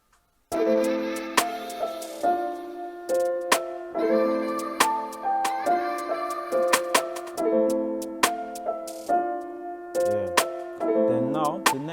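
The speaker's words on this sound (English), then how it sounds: "this is how the snares sound with the counter." Layered drill snares, a trance snare stacked with a sealer snare, crack in a steady rhythmic pattern over a cold melodic drill beat's bell-like melody and chords, about a dozen hits, loud and close, with no talking.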